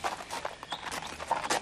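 Hooves of a ridden horse clip-clopping at a steady walk, a repeated close rhythm of hoof strikes with no talking.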